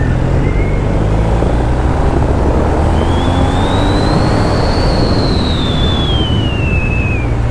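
A BMW R1250R motorcycle accelerates, its engine note climbing in a long rising then falling whine. Heavy, steady wind and road roar sits underneath and stays loud throughout.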